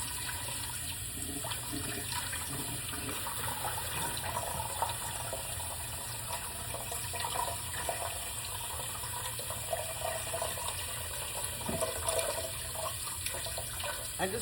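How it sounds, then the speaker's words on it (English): Cold tap water runs steadily over food being rinsed in a kitchen sink, a continuous close splashing hiss that holds for the whole stretch without any talk. "I'm gonna rinse nice cold water all over these."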